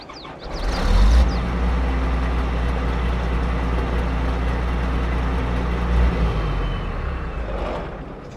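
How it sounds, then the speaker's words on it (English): John Deere S-Series combine engine in a modded farming video game starts with a short whine and rumble, then settles into a deep, steady diesel idle before shutting off near the end. "Okay, let's start the engine up. I'll be quiet so you guys can hear it."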